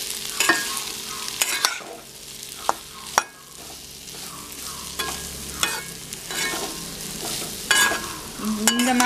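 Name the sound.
elephant yam pieces frying in a pan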